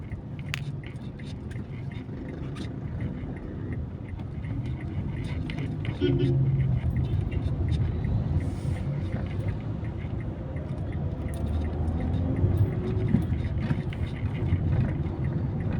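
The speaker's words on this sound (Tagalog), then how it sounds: "Yan po ang mga sasakyan po." Heavy traffic streams along Katipunan Avenue, a continuous roadside rumble of passing cars with occasional louder swells, while someone talks over it.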